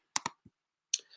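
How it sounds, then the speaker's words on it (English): A couple of quick metallic clicks, a soft tap, then a sharp pop with a brief fizzing hiss as a beer is opened nearby. "Pop a beer."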